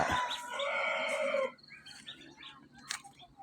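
A rooster crows loudly and close by for about a second and a half in a free-range chicken coop on a home garden farm, followed by softer scattered clucks and chirps from the flock.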